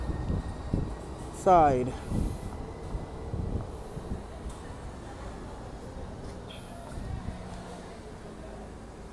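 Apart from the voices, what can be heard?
two-car Siemens Muni light rail train passing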